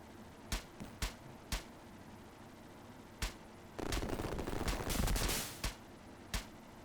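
Gunfire from a guard tower in the Sega Genesis game Urban Strike: a handful of sharp single shots spaced across the clip, with a short burst of rapid, dense fire in the middle, all fairly faint.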